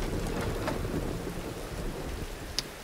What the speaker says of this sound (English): The storm rages.